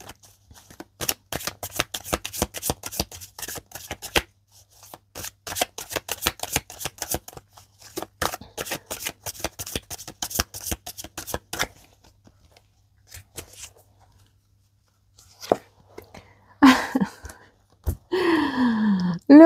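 Star Child tarot cards from Arcana Sacra being shuffled in repeated bursts of crisp riffling and slapping, with pauses between rounds and a few louder handling sounds and breaths toward the end.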